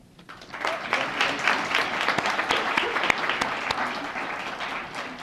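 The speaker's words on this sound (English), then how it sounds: "if we could hold applause until the end" A room full of people clapping steadily at a global health master's commencement, a dense, sustained round of applause lasting several seconds with no voices over it.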